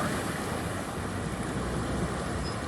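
Water of a creek at a Turon River crossing rushes steadily, a loud continuous broadband wash mixed with wind noise on the microphone.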